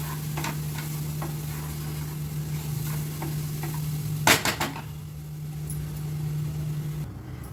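A spoon stirs grated coconut and jaggery filling for rice modak in a pan over low gas, giving light repeated scrapes against a faint sizzle, with a brief cluster of sharper clatters near the middle.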